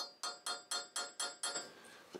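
A hammer taps a fine chisel against a wheel bearing on a 2007 Toyota Tacoma 4x4 front hub, six sharp, evenly spaced metallic strikes ringing close up, then a softer scrape.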